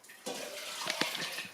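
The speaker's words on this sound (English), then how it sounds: "Okay, let's put just a little bit more water." Water splashes and gurgles steadily as it is poured into beef stew in a crockpot, a short close pour with uneven bubbling bursts.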